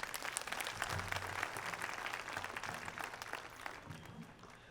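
Parents and guests applaud at St Mary's School annual function in Baijalpur, a continuous wash of crowd clapping, fairly quiet and slightly fading by the end, over a low background hum.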